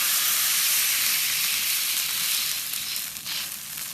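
Hotpot base and bean paste stir-fried in hot oil give a loud, steady, close sizzle that fades only slightly toward the end, with no voices.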